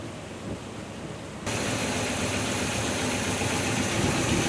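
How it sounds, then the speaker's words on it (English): The engine of a 1981 Chevrolet C10 Silverado, warmed up with the choke fully open, idling smoothly as a steady, even rumble that steps up in level partway through and holds constant. "it's idled down and up to a pretty good operating temperature now and running smooth"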